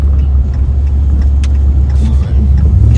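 A pickup truck with a 5.7 HEMI engine and its fan deleted drives through town, heard from inside as a loud steady low engine rumble and road drone with little change in pitch.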